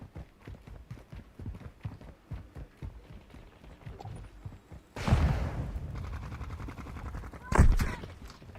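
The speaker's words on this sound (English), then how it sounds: "Taking effective fire." Gunfire bursts in a Call of Duty Modern Warfare II multiplayer match: a dense, loud volley erupts after a run of fast rhythmic ticks and rattles on and off, with a sharp louder blast near the end.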